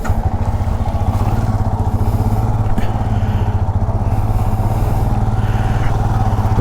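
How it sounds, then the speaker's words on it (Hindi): Royal Enfield Himalayan BS6 2021 motorcycle running on a service road beside a busy highway, its single-cylinder engine thumping in a steady, loud idle close by with no talk. "चलो अभी बाइक स्टार्ट कर लेता हूँ।"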